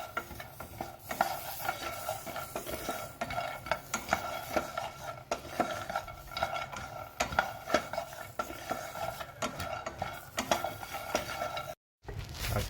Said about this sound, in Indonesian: kita aduk-aduk terus sampai kacang tanahnya nanti ada bunyi pletek-pletek gitu ya